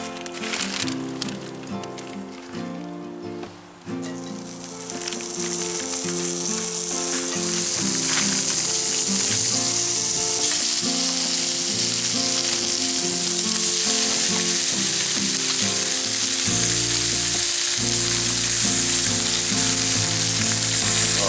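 Thick-cut bacon sizzles in a pan, the frying building from a quieter crackle into a loud, sustained hiss with stirring, while music plays underneath.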